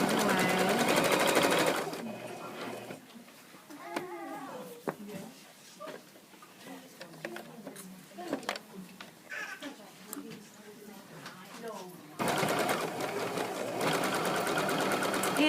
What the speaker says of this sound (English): just go back over it real quick